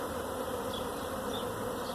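Honey bees swarm into an old hive, a dense continuous buzz of many insects close by, steady throughout with individual bees briefly droning louder as they pass.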